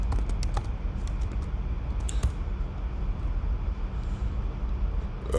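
Quick bursts of computer keyboard typing, a brief cluster of light key clicks at the start and a few more around the middle, over a steady low background hum.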